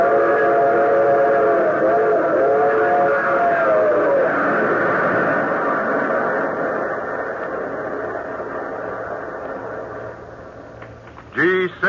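A train rumbles steadily in an old-time radio drama sound effect, with a whistle sounding early, then the noise fades and a voice speaks briefly at the end.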